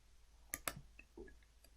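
A mouse button is clicked to save a firewall setting: two sharp, close clicks a moment apart, then a softer faint click, in an otherwise quiet room with no talking.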